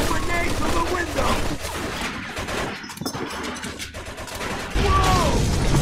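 Machine gun fire and a dense fusillade rattle through a shootout in the Mafia II video game, loud and sustained, mixed with crashes and voices talking over the battle.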